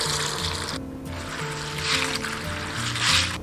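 Water runs over Sichuan peppercorns and fennel seeds in a bowl as they are rinsed, making a steady close trickling and splashing sound.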